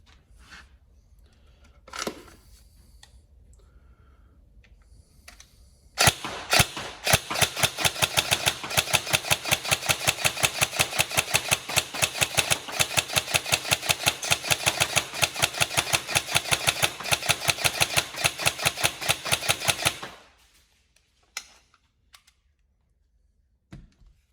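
Rapid full-auto bursts from an upgraded Tokyo Marui 417 DMR next-generation airsoft electric gun, a dense mechanical rattle of shots fired close and loud for about fourteen seconds, with quiet handling before and after.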